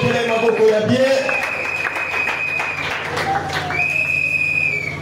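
A church congregation at a prophetic conference cheering and applauding, a loud continuous wash of clapping with whistles and shouts rising over a sustained background tone, voices mixed in.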